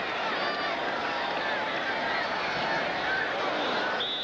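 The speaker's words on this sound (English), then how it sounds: "You can hear the groan from the crowd" Crowd in a college football stadium at a 1991 Georgia vs. Clemson game, a broad steady roar of massed voices that swells slightly, heard from a distance and loud throughout with no clear speech.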